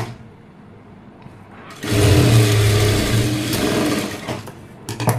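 A sewing machine runs steadily while stitching a pleat on a blouse, starting after a quiet moment and continuing as a close, even mechanical hum with a few clicks near the end.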